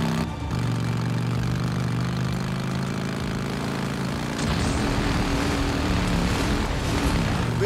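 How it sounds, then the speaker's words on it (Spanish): A helicopter in the video game Days Gone drones with a steady engine hum and rotor buzz, then shifts midway to a rougher, broader roar, continuous and fairly loud with no speech. "parece que el objetivo es seguir el helicóptero"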